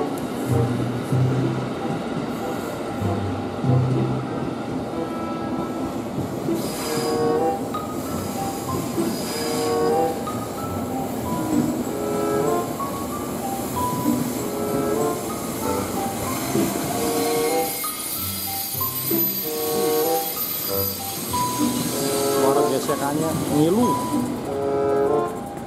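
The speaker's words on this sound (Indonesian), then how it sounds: "Kereta berbelok melintasi JPL" A passenger train curves through level crossing 109 on its approach to Cikarang station, wheels squealing and cars rumbling steadily close by with brief rhythmic clatter, while a voice talks over the noise.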